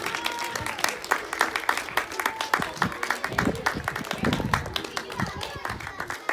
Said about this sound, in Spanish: Así que un aplauso para ellos.